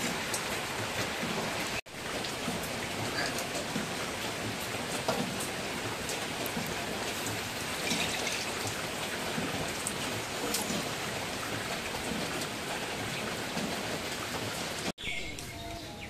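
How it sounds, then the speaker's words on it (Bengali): Rain falls in a steady, diffuse hiss of drops on surfaces outdoors near a river, holding an even level with two brief dropouts and faint background sounds. "বৃষ্টিটা অনেকটাই কমে গেছে"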